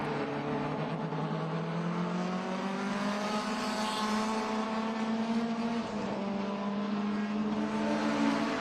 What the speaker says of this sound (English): draft each other down this long banana back straight just to try to use the draft to catch up to that BMW